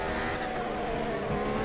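Race car engines in an F1 mobile racing video game, a steady high revving whine with shifting tones as cars jostle close together, a faint tire squeal mixed in, fairly quiet overall.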